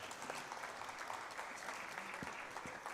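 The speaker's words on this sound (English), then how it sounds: "A big round of applause for everyone" Dense applause from a conference audience at a national gathering of chartered accountants, a steady wash of many hands clapping with no pauses.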